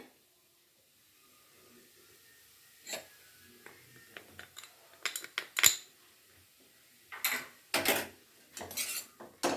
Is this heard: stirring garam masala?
yes